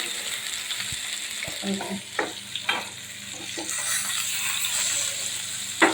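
Hilsa fish pieces wrapped in pumpkin leaves fry in hot oil for elish paturi, giving a steady close sizzle with a few sharp crackles and spits as the pieces are turned.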